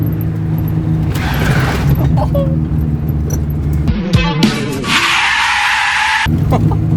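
A car engine revs and strains, then tires squeal loudly for over a second as the vehicle brakes hard.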